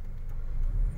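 A car's engine hums low and steady as the driver gives it gas during a stop-and-go driving lesson, a brief close rumble with no talking.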